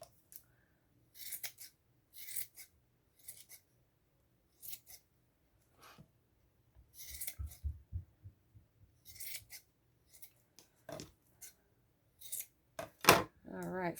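Scissors snipping craft material in short clusters of crisp cuts separated by silences, close and fairly quiet, with faint handling rustles between cuts and no talking.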